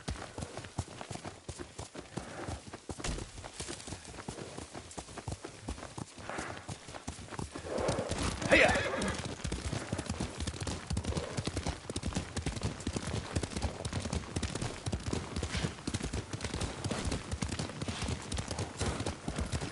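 Steady clip-clop of horse hooves trotting throughout in a video game, with a brief horse whinny in the middle and a low ambient backdrop.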